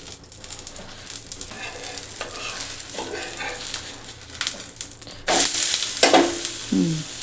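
An instant dosa cooks with ghee on a pan, giving a continuous sizzle with scraping strokes. The frying grows noticeably louder and brighter partway through, and a faint dog may bark in the background.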